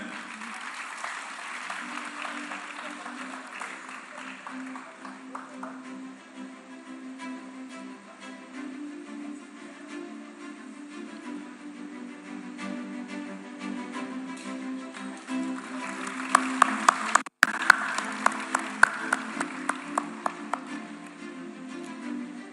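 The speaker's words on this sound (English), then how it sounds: "Round of applause, ladies and gentlemen." Sustained audience applause at a film festival ceremony, a steady dense clapping crowd that swells near the end with a few sharper louder claps standing out.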